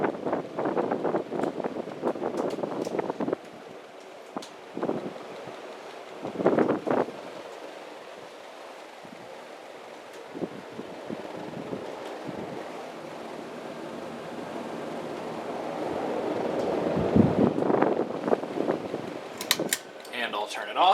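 A Casablanca Four Seasons ceiling fan running, a soft steady whoosh of moving air heard up close, with handling bumps and some quiet talk over it.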